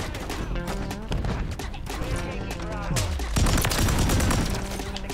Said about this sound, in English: I am just shooting at this point.